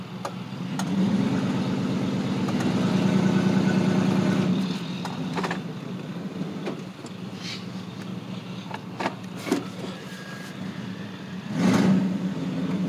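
A 1989 Chevrolet Silverado pickup engine runs nearby. It rumbles with a strong low throb that swells for several seconds, then settles to a quieter idle with scattered clunks, and rises briefly again near the end.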